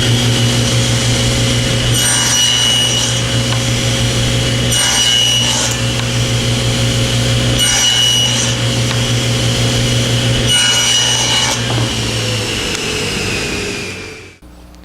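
A power tool cutting wood to make loose tenons, a loud steady whine with a low hum and four rougher cutting passes spaced through it, winding down and fading at the end.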